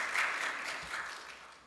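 A church congregation at a Korean sermon breaks into short applause, a dense wash of clapping hands that fades slightly toward the end.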